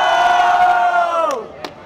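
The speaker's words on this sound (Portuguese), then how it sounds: "Barulho pras rimas do Krauk" Crowd at a Brazilian freestyle rap battle, Batalha da Aldeia, cheering and shouting in a loud sustained roar that trails off, with a couple of sharp whoops near the end.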